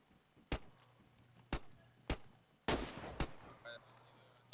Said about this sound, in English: See the sniper that just shot at us?